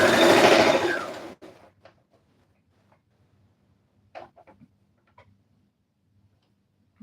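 A sewing machine stitching a red carpet dress runs in a dense, steady burst for just over a second, then stops, leaving a few faint scattered clicks and taps in near silence.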